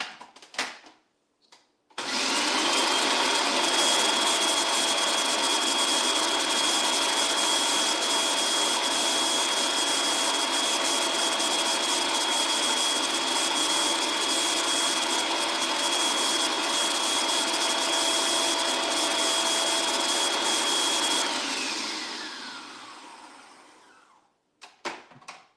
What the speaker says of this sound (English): I am just going to blend it a little bit more.